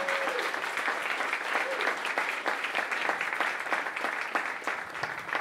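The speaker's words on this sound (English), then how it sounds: "Please welcome him with a big round of applause." Sustained applause from an audience at a Green Room event as a guest is welcomed to the stage, a dense, steady wash of many hands clapping at even loudness throughout, with no voices standing out.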